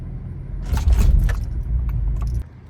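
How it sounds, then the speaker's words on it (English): A manual-transmission car's engine stalls: a low idling rumble surges with a brief rattle, then cuts off abruptly near the end, leaving quiet. "Stalling occurs when you don't apply enough gas and the engine stops moving"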